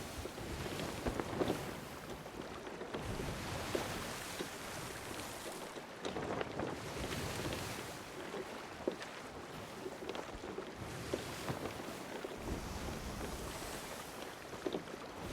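Sailing ship at sea in Sea of Thieves, a continuous whoosh of wind and rushing water with creaking and splashing, steady and enveloping with no talking.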